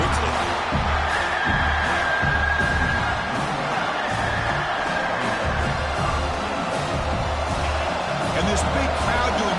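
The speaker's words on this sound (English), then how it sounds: "this big crowd doing everything possible to inspire this defense down here near the goal line" Big football stadium crowd roaring continuously near the goal line, a dense, loud wall of cheering and yelling with a commentator talking over it.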